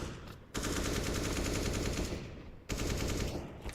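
Rapid automatic gunfire from a Counter-Strike match in an ESL Pro League game, two dense bursts of fast repeated shots, loud and close, separated by a brief pause.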